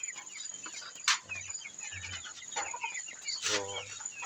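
Backyard chickens and hens on a small farm cluck in short, low bursts spread across the moment, with a steady high background hiss and a few sharper sounds nearby.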